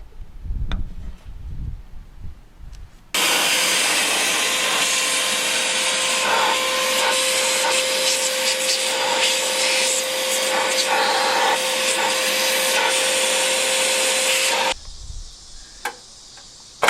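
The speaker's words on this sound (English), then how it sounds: "I'm gonna need a vacuum because I'm gonna clean out these ports from our proportioning valve too" A shop vacuum runs steadily for about twelve seconds, cleaning out the ports of a brake proportioning valve on a Foxbody Mustang, starting abruptly and cutting off with a few faint clicks around it.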